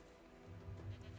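A goat bleats in the Minecraft video game, one brief, faint wavering call over low game ambience, with no talking.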